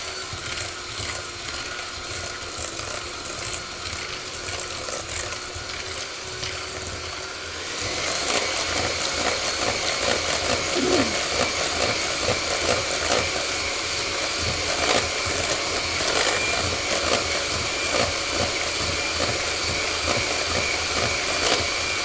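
An electric kitchen mixer creams eggs, sugar and Crisco for banana bread, a steady close mechanical whir that grows a little louder partway through and keeps running.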